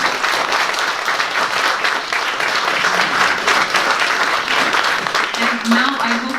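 A lecture audience applauds steadily and loudly throughout, a dense wash of many hands clapping at once, with a faint voice murmuring briefly near the end.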